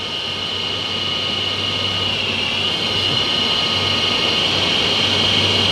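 An electric shop fan runs at full speed in a woodworking workshop, giving a constant, loud whooshing roar that holds steady and alone throughout.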